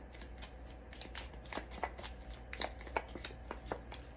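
A deck of tarot cards being shuffled up close, with steady repeated riffling and soft slapping of cards continuing for several seconds and no voices.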